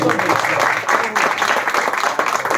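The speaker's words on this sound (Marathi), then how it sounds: "बाळाभाऊंसाठी जोरदार टाळ्या व्हायला पाहिजे" An audience claps for a lyricist and writer at a devotional song launch, brisk, steady applause close by for the whole stretch, with voices speaking over it.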